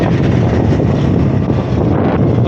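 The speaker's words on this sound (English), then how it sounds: "Fucking windy." Strong wind roars steadily and loudly across the microphone, a dense, unbroken rush with no voices.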